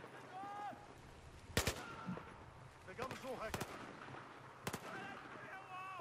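Sharp Battlefield 4 gunshots crack out in a few scattered bursts over faint background game sounds and quiet effects.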